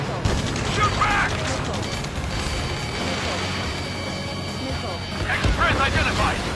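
Gunfire crackles during a dockside firefight near a gantry crane in Ace Combat 7, bursts of shots mixed into a dense, loud battle din with shouting voices.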